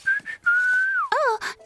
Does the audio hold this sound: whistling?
yes